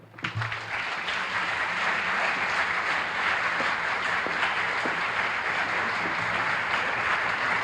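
Sustained audience applause from a crowd at an author conversation event, steady and dense throughout, welcoming a guest speaker onto the stage.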